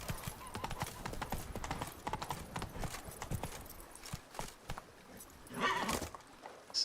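Horse hooves clip-clop steadily at a trot throughout a Witcher 3 game scene, with a brief whinny-like burst near the end and occasional voice sounds mixed in.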